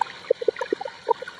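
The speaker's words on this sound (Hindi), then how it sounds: "तो थोड़ा सा पानी डालते हैं ताकि हमारे टमाटर और लहसुन है ना तो नरम हो जाए।" Water poured into a cooking pan holding tomatoes and whole garlic, giving a brief run of bubbly, gurgling splashes and drips, close and moderately loud.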